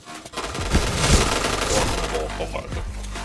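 Gunfire in the PointBlank shooter game, a sustained, loud stretch of rapid shots and bursts with dense crackle throughout, with a player's voice talking over it.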